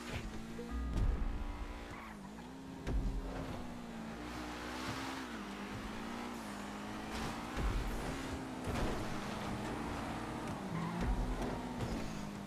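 A Stinger rally car in a racing video game drives on a light forest track, its engine droning steadily while tires squeal and skid through repeated corners, with no talk over it.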